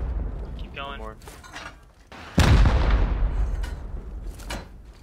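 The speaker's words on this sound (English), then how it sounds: "Well, I'm gonna rocket then the bottom ones." Rockets blast against a base wall during a raid in the video game Rust, one heavy booming impact with a long rumbling tail after a smaller whooshing launch, with other loud thuds around it.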